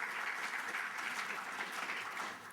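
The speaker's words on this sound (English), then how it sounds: "One more round of applause for our award recipients," Audience at a broadband summit awards ceremony applauding the award recipients, a steady round of clapping filling the room, continuous and even before tapering slightly at the end.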